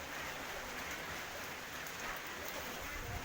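Steady rain falling outdoors, a dense even hiss of drops on surfaces with no breaks, moderately loud and close, no speech over it.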